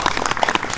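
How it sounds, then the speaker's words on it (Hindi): Villagers at a gathering where a local head was chosen unanimously clap together in a brief, dense burst of applause, with no talking over it. "तालियां बजाओ।"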